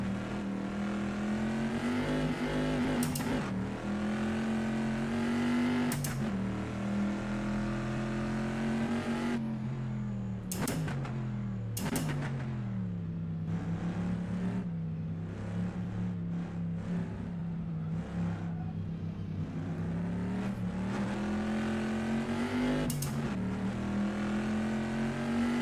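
A WSC Legends race car sliding around the Riverside track, its engine holding a loud droning note with rising and falling revs, sharp pops and crackles recurring between gear changes, with no speech.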